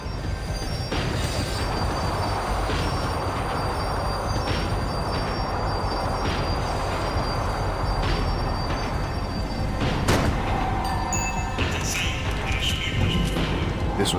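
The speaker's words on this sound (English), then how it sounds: "The tram was slowing down, and I'd only just gotten on board." A tram in the video game Max Payne 3 slows down with a steady rumbling roll, metallic wheel squeals and occasional clanks and thuds, heavy and close throughout.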